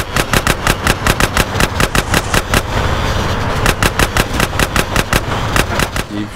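Rapid automatic gunfire in Grand Theft Auto: San Andreas, loud, close bursts of evenly spaced shots over a rumbling engine, with a short break in the shooting before it resumes.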